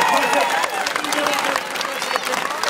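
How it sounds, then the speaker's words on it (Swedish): Applause and cheering from a live concert crowd at Leksand Sommarland, with dense scattered clapping running under a presenter's voice. "Ge en stor applåd mina damer och herrar"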